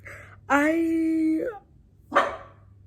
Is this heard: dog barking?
yes